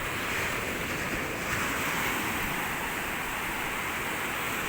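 Small Pacific Ocean waves wash onto a shore in a continuous hiss of surf mixed with wind noise, fairly faint and steady, with no talking.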